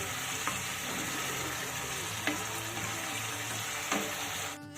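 Spiced mustard paste with Kashmiri red chilli powder sautéing in oil for a Bhola fish curry, a constant close sizzle with a few faint stirring clicks, ending in a brief louder scrape.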